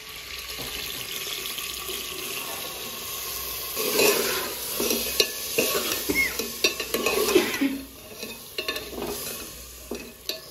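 Browned onions frying in a pan while being stirred, a close, steady sizzle broken by louder scraping and stirring strokes in the middle stretch, then easing off, with no talking.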